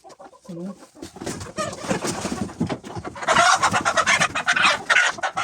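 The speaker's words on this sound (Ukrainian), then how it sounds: "Ось він такий у нас крикунь. Легорн цей." A Leghorn rooster being handled for weighing in a poultry yard squawks and clucks in loud, frantic, rapid bursts that grow busier and louder, with a short low call at the start.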